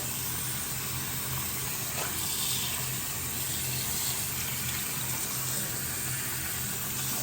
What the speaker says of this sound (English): we're gonna give the wig one more really good rinse, making sure we've gotten all the conditioner out, all the shampoo out